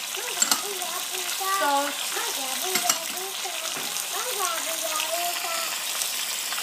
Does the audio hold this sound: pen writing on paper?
no